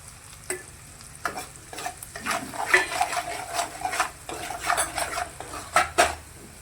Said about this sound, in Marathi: मसाले होऊ देणार थोडेसे तेलामध्ये